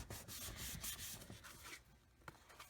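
Soft rubbing and scraping as a burnishing tool presses along the fold of a paper pop-up gift card holder, a quiet close series of short strokes.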